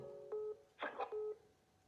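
Telephone keypad dialing tones sound as an outgoing call connects: one steady tone, then a brief noisy burst, then a second steady tone, all faint and close with no talking.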